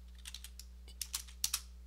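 Computer keyboard typing in quick, light, scattered keystrokes, a short irregular burst of clicks that grows slightly louder toward the end, over a steady low electrical hum.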